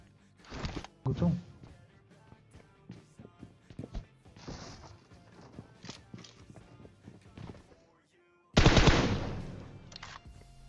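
Gunfire in the PUBG Mobile game, with sharp bursts of rapid shots near the start and a loud burst near the end, between quieter clicks and footstep-like taps.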